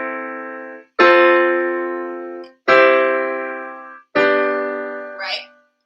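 A piano sounds a series of four sustained pop chords, each struck firmly and left to ring and decay before the next, played alone and close with no talking.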